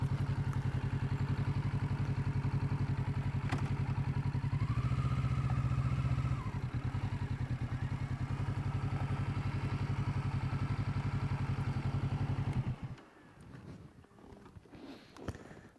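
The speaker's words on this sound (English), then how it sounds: "They must be used to the sound of a dirt bike, I suppose." Kawasaki Z650RS motorcycle idling steadily up close, with a brief rise in revs midway, then the engine shuts off, leaving only faint outdoor background noise.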